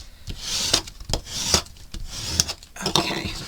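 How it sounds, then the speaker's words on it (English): A bone folder or similar tool rubs firmly across craft paper in a handmade junk journal, giving short rasping strokes in an uneven rhythm, close and fairly loud with no talking. "I'm just going to burnish these down."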